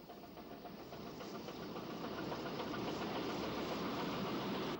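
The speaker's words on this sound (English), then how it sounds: "a Black 5 heads for Shrewsbury from Chester" A Black 5 steam locomotive runs toward Shrewsbury from Chester, a dense, rumbling mechanical roar that swells slightly and holds steady, heard without talk.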